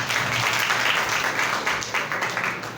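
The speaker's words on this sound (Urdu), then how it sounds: "زوردار تالیاں خدا کے لیے۔" A congregation in church breaks into loud applause, a thick wash of many hands clapping continuously at close range for a few seconds.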